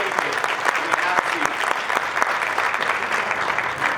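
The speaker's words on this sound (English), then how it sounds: "Round of applause." Dense, steady applause from a graduation ceremony audience for the Cornell and Dartmouth cohorts, class of 2021, filling the room continuously with a busy wash of claps, loud and close throughout.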